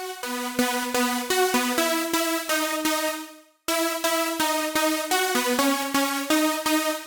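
Five stacked synth lead layers for a progressive house drop, made in FL Studio, play a bright, loud, unmixed staccato melody in two rhythmic phrases separated by a short gap, with no voice.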